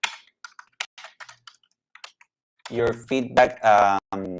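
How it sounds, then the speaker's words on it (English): Computer keyboard typing comes as scattered quick clicks and taps at first, then a person starts talking over a few remaining keystrokes. "let's say you type your feedback"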